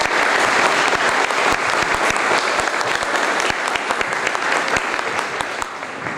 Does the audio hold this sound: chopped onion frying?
no